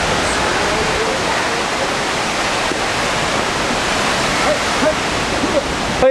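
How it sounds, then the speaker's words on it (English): A waterfall roars as a loud, close, steady rush of falling water that continues unbroken throughout. "the waterfall."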